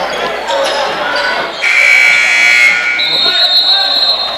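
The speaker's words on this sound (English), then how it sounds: "when the buzzer went off" Over a noisy crowd, a loud sustained electronic buzzer blares for about a second and a half, followed by a higher steady tone.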